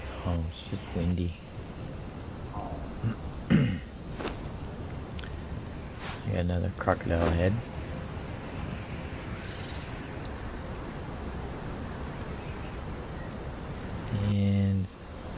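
Steady broadband wind blows through the Conan Exiles game world for the whole stretch, a constant airy rush under frequent talk, with short bursts of game sounds scattered over it.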